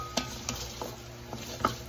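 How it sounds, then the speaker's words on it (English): Onion for fried rice cooking in a pan: a few sharp spatula scrapes and clicks over a faint, low sizzle, close by and quiet, with no voices. "So I just want to make sure that my onion is really cooked."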